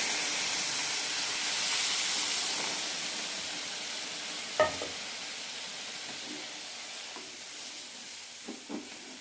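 Milk poured into a pan of roasted semolina for payasam, giving a broad steaming hiss that slowly settles and softens, with a few small clinks and knocks.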